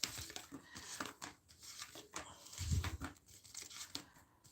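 Soft, rapid papery riffling and crinkling of tarot cards being shuffled close by, irregular and fairly quiet, with a brief thump near the middle.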